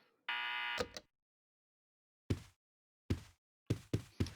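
A loud, steady electronic alarm buzzer sounds once for about half a second in the Resident Evil Code: Veronica button puzzle, followed by several sharp, isolated knocks or clunks spaced through otherwise silent game audio.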